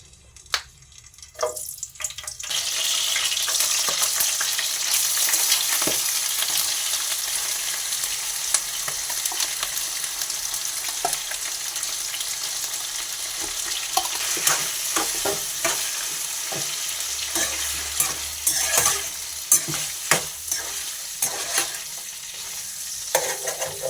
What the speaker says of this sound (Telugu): అయితే ఆయిల్ వేసుకుందాం పచ్చిమిరపకాయలు ఒక రెండు